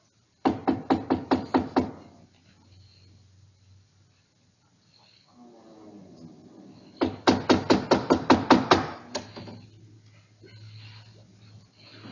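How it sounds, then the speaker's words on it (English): Sharp bursts of rapid knocking on a door, a radio drama sound effect from a 1952 old-time Tarzan radio serial, sounding loud and close; one quick run of raps, a quieter stretch, then a second rapid series. "Here, door. We knock."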